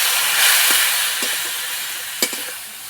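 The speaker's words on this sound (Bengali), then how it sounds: "মশলা কষানো হয়ে গেছে, মশলা থেকে তেল ছেড়ে গেছে" Ground turmeric, cumin and chilli powder, cooked down with a little water until the oil separates, sizzle steadily in a pan. The close, continuous hiss is broken by a few small pops and stirring clinks.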